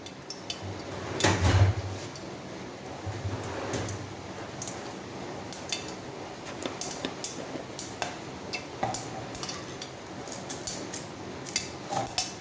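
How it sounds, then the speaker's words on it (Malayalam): Mustard seeds dropped into hot oil in a home kitchen, giving scattered sharp pops and crackles that grow denser toward the end, with a low thump early on and no talking. "എണ്ണയൊന്ന് ചൂടായി വന്നിട്ടുണ്ട് രണ്ട് കടുകിട്ട് കൊടുക്കാം"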